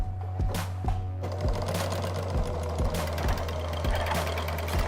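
Sewing machine stitching fabric to elastic for a bra, a steady fast mechanical whir with rhythmic knocking needle beats, close and continuous, with no talking.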